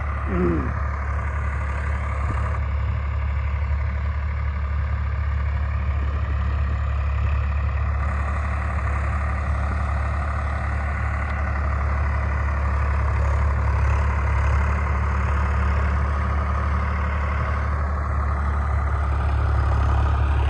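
Tractors running in a Punjab field during wheat sowing, one pulling a super seeder while the other ploughs ahead, give a steady, loud, low engine drone that holds unbroken throughout with no voices.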